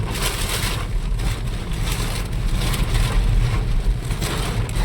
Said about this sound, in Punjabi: ਬਹੁਤ ਜ਼ਿਆਦਾ ਮੀਂਹ ਆ